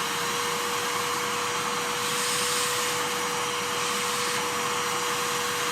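A budget wood dust collector pulls air through plastic pipe with a loud, constant vacuum-like whoosh and a steady whine running underneath, continuous and close by with no speech.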